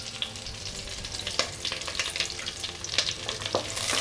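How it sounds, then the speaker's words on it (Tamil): Pepper, cumin, curry leaves and ginger sauté in hot ghee for ghee pongal, giving a steady close crackling sizzle with scattered sharper pops throughout, no voices. "லைட்டாக வதக்கி விட்டுக்கலாம்."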